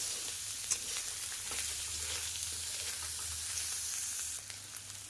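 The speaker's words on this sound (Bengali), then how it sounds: "পেঁয়াজটা দেওয়ার পর পেঁয়াজটাকে খুব ভালোভাবে ভাজা করে নেব।" Chopped onion frying in fish oil in a pan gives a steady, close sizzle with faint stirring scrapes, continuing evenly for several seconds and easing slightly near the end, with no voices.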